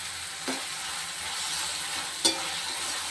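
Onions and tomatoes with salt sizzle in a pan for a prawn curry, a steady close frying hiss broken by two sharp stirring clinks, with no one talking.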